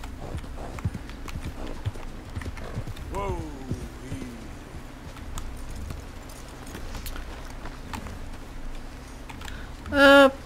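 Horse hooves clip-clopping in Red Dead Redemption 2, a steady soft rhythm of footfalls running under game ambience, with a brief voice partway through and a louder burst at the very end.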